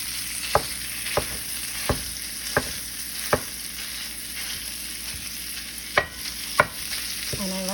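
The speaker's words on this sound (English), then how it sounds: "now I'm going to bust up my sausage" Sausage browning in a frying pan with a steady sizzle, broken up with a wooden spoon that knocks against the pan at irregular intervals, close and fairly quiet, with no talking.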